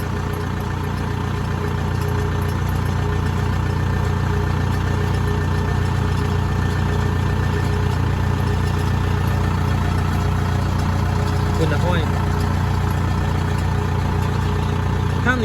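Kubota L5018SP tractor engine runs steadily in a rice field, a continuous low droning rumble with no break over fifteen seconds.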